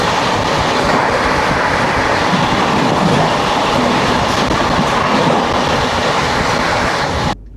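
At Nasik Road station, the 12102 Shalimar–LTT Gyaneshwari Express thunders past close and loud, a continuous rumble with faint rhythmic wheel clatter that holds steady before cutting off at the end.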